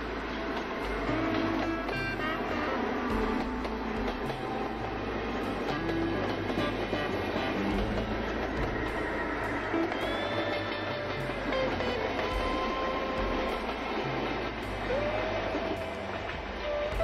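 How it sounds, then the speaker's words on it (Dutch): An NS Koploper train passes at Hoogeveen station in a steady, loud, close rumble with rhythmic clickety-clack of wheels over rail joints and faint tonal horn or whistle lines throughout. "Dit treintype bepaalt al 30 jaar het beeld van station Hoogeveen, de koploper."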